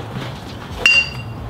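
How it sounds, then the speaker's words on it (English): A jack handle levering a ratchet under a car gives a single sharp metallic clink with a short ringing tone, close by over a low background rumble. "So I'm using the jack handle to try and get more leverage on the ratchet."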